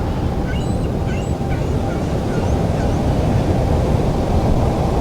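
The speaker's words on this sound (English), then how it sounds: "Feel the sound of the ocean." Ocean surf washing steadily onto a beach at sunrise, a continuous loud broadband rush with no clear breaks, a few faint bird calls above it.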